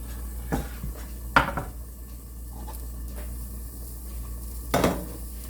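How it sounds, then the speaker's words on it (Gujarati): A lid is set on a cooking pot while a wheat-flour snack cooks, giving two distinct metallic clanks several seconds apart. Soft kitchen clatter and a low steady hum fill the gaps. "તે ચડે ત્યાં સુધી આપણે થોડુંક વાર ઢાંકી દઈશું"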